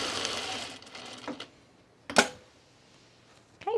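Short bursts of a sewing machine tacking fabric for a divided basket come up close, with a brief whirr at the start, a sharp clack near the middle and another burst at the end amid quiet pauses.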